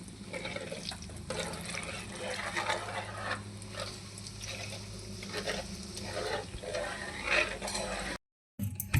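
Garlic pounded with turmeric and salt in a mortar gives repeated dull thuds and gritty crunching in a steady rhythm, close and moderately loud, ending with a brief gap of silence.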